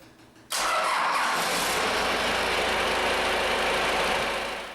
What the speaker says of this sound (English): the controller will immediately power up and begin a countdown to start the engine